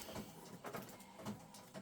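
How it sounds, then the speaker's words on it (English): A sublimation printer whirs and clunks in repeating mechanical pulses, roughly every half second, steady and fairly quiet with no voices. "And I'm sure you can hear my printer printing in the background."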